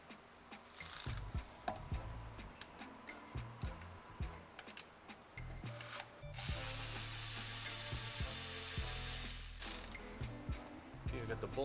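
A ratchet wrench removing a 10mm bolt that holds the wiring harness on a 2008 Chevy Tahoe, giving repeated close mechanical clicks and clatter in short bursts, with a voice talking over parts of it.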